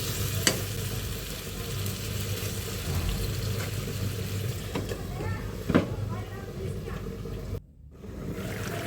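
Fish simmers in gravy in a pan as it is stirred, a steady sizzle and bubbling with occasional scrapes and taps of the utensil, close up, with brief silence near the end.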